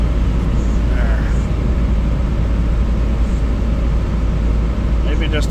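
Toyota Tercel wagon 4WD with a newly replaced manual steering rack cruising on a road, a steady, loud, even drone of engine and road noise heard from inside the car throughout.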